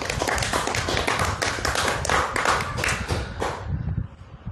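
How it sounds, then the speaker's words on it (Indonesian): An audience at a live religious talk in Balikpapan claps in a loud, close burst of dense, fairly rhythmic hand claps that stop abruptly near the end. "Tepuk tangan."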